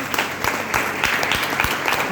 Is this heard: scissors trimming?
no